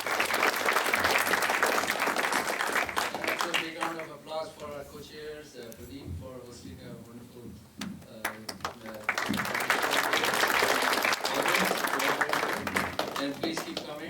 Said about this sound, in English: So a big round of applause for the panelists.